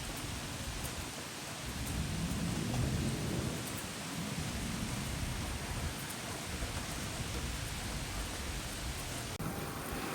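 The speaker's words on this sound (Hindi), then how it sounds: "लेकिन ये बारिश है बेसिकली।" Heavy rain pours steadily during Hurricane Milton, with a deep rumble of thunder swelling a few seconds in, the downpour a dense continuous roar with no voices.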